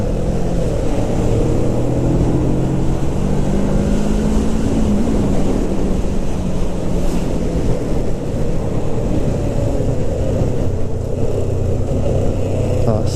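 A motorbike is ridden along an open road, its engine droning steadily with a rising pitch under heavy wind buffeting at the microphone throughout.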